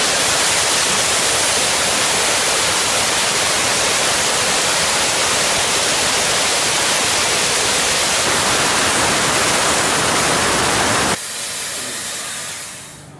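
Compressed air hisses out hard from a draining primary air tank on an air brake system, a loud, steady broadband rush that suddenly drops to a weaker hiss near the end, with no talk.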